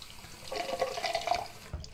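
Tap water splashes and trickles as a face is rinsed after an emulsified cleansing cream, a soft, close, uneven wash of running water lasting a couple of seconds, with no talking.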